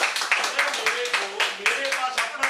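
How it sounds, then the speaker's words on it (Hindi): Applause at a live money seminar, with a dense run of claps that sounds like a crowd. Talk continues over the clapping throughout. "एक बार जोरदार तालियां।"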